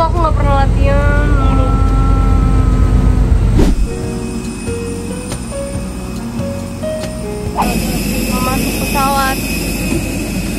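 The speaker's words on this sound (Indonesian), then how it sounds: "Pesawat." Aircraft engine noise on a flight from Jakarta to Gorontalo makes a loud, steady roar that fills the clip, with voices and short tonal sounds on top of it.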